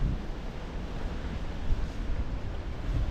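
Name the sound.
strong force 8 wind on a Malta cliff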